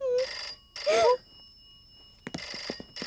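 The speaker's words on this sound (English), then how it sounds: "Lola, you have to get off the telephone. Somebody might be calling" A cartoon telephone rings in short bright electronic bursts, two clear rings in the first second, followed by a brief spoken-sounding fragment near the end.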